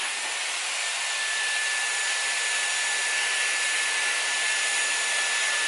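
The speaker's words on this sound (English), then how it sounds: "And then I'll just take my Dyson." A Dyson Airwrap hair styler blows steadily on hair at close range, giving a loud, even airy whoosh with a constant high motor whine and no talking.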